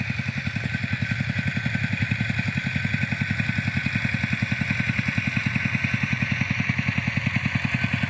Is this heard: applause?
no